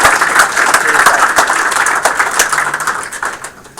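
An audience at a game studio build review gives a round of applause, steady dense clapping that carries on throughout and tapers off near the end.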